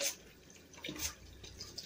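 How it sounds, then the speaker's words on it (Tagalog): Hands being washed under a running tap, with close, faint splashing and dripping water in short irregular bursts. "Maghugas muna ako ng kamay ko."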